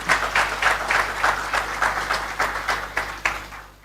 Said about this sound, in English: That deserves recognition and a round of applause.